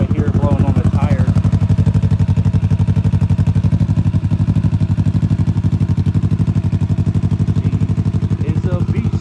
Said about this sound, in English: The exhaust is right here blowing on the tire.